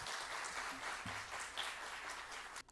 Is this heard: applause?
yes